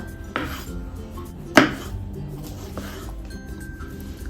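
Tomatoes are chopped for a soya chunks and peas curry, with a few knife taps on a board and one sharp louder clack near the middle among low kitchen clatter.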